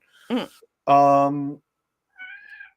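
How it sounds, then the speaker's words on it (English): A cat meows insistently for food indoors: a short rising-falling meow, then a long loud drawn-out cry, and after a pause a quieter, thinner meow. "I have a cat screaming at me."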